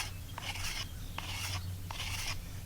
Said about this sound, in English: I'm going to carve a little bit out of both of these corners on the leading edge.